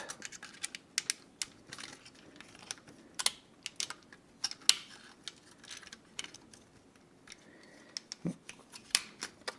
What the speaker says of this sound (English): Properly fold the legs out and around.